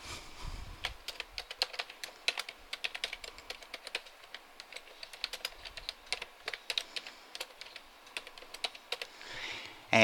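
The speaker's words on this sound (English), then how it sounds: "I'm going to type in the name of my domain" A domain name is typed on a computer keyboard in a quick, uneven run of close, crisp key clicks.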